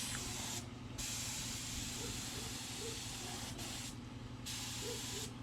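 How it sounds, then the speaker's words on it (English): A spray gun lays thinned paint onto the bottom of an off-road trailer bed, giving a loud, steady, close hiss that cuts out briefly twice, over a low mechanical hum. "the next thing we're going to do now is spray the bottom of the bed"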